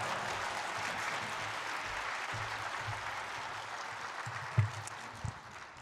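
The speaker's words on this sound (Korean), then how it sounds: "박수로 환영하겠습니다." A church congregation applauds in welcome for a visiting pastor at a revival service, steady sustained clapping filling the hall with a few louder claps near the end.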